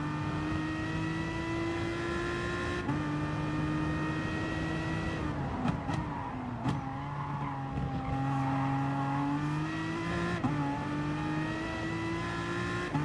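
A Gr.3 race car engine in Gran Turismo Sport at Mount Panorama, Bathurst, drones loudly and continuously, its pitch dropping and climbing through gear changes and corners, with brief tyre noise mid-lap and no talk.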